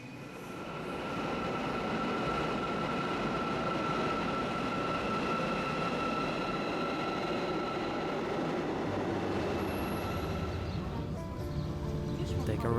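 A subway train rumbles steadily along the tracks, a loud continuous roar with a faint high whine, carrying on without a break.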